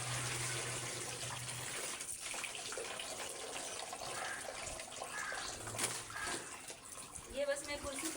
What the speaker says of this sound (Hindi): ये बस मैं कुर्सी पे रख दूँगी और इससे पानी निकल जाएगा